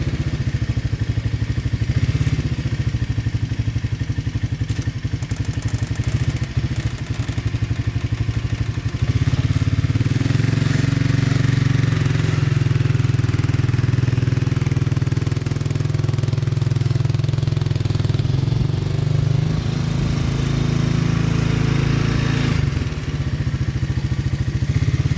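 ATV engine runs steadily as it drives in circles around a lawn, pulling a Black Boar leveling blade. A loud, continuous motor drone swells in pitch and load midway, with scraping clatter and no talk.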